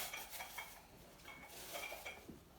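Suction plates, a cup, a fork and a spoon clatter and clink quietly in a few scattered knocks and scrapes, faint and close, with no talking.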